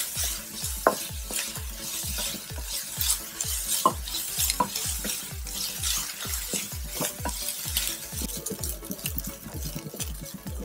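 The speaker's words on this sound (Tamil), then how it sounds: "2 பூண்டு பல், கொஞ்சம் இஞ்சி அப்படியே நச்சு கூட போட்டுக்கலாம். நல்லா வதக்கி விட்டுடலாம்" Garlic, ginger and onions sautéing in a pan while being stirred, a steady sizzle broken by a regular series of scraping spatula strokes, close and fairly loud with no talking.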